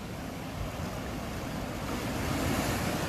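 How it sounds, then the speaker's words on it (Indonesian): Big ocean waves roll onto a southern beach at Karang Hawu, a continuous loud roar of surf and rushing water mixed with wind buffeting the microphone, with no voices. "Suasananya begitu indah di pantai, hiasi dengan ombak-ombak yang besar."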